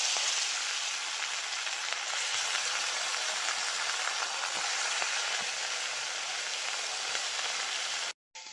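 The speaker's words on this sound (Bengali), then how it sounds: "মাছে লবণ হলুদ মাখিয়ে মাছটা ভেজে নেব।" Fish rubbed with salt and turmeric fries in hot oil, giving a loud, dense, unbroken crackling sizzle that carries on evenly until a brief cut just before the end; no one speaks.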